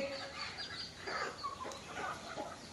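A hen and her chicks of a native desi breed cluck softly nearby, with a few higher chirps mixed in, quiet and intermittent against a low background.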